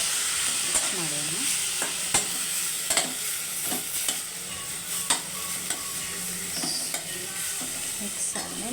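Chopped tomatoes sizzle and fry in a pan while being stirred for rasam, with repeated scraping strokes of a spoon over a constant crackling hiss and no talking.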